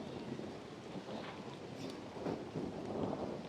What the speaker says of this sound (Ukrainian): Я чуй, як гримить